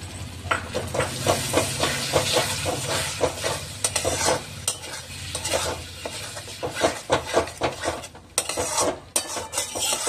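Beaten yogurt stirred into hot oil in a pan for a Bengali dum aloo, with a steady loud sizzle and hiss under repeated close scraping and clinking of a spoon against the pan.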